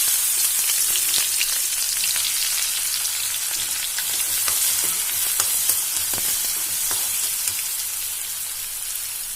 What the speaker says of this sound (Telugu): ఆనియన్, పచ్చిమిర్చి వేసుకుని బాగా వేయించాలి